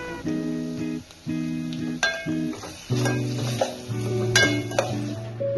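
Onions and garlic paste frying and being stirred in a pan while cooking leftover-roti upma: steady close sizzle with bursts of stirring and a few clinks of the spoon against the pan, no talking.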